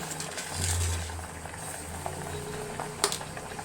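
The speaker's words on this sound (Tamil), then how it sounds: "தண்ணி நல்லா கொதிச்சிருச்சு" A pot of water rolls at a full boil on a kitchen stove while cooking rice, a steady bubbling churn with occasional louder pops, heard up close.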